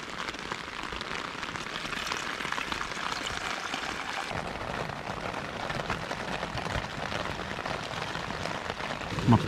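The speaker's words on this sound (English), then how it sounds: "Properly tipping it down outside." Heavy rain drums steadily on the fabric of a small one-person Zephyros 1 backpacking tent, a dense continuous patter close overhead, bikepacking camp at Salhouse Broad in the Norfolk Broads.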